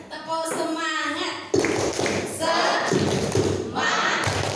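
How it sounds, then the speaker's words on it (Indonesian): A seated group at a training session does a rhythmic chant-and-clap routine. A voice calls out first, then bursts of loud, patterned clapping with thudding beats follow, and voices chant between the claps. "Kita beri tepuk semangat dulu ya."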